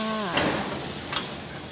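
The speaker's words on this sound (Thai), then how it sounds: "ผัดหมูให้สุกเลยค่ะ" Pork sizzling and crackling steadily in a hot pan as it stir-fries, with a couple of sharp metallic scrapes from stirring.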